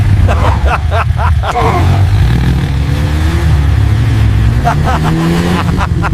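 A motorbike engine runs steadily and loud throughout, its droning hum and rising revs mixed with background music and sound effects, while people talk over it.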